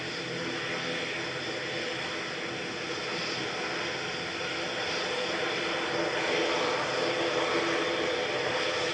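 A Cathay Pacific airliner landing at Manchester Airport, its engine roar a steady, fairly faint broadband rush that swells slightly toward the end.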